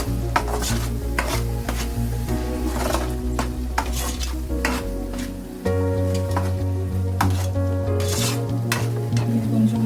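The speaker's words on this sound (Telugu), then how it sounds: "బాగా వేయించుకుందామండి" Spinach paneer curry sizzles and fries in a pan while a spoon stirs and scrapes it in steady, repeated strokes, close and fairly loud, with a low steady hum running underneath and no voices.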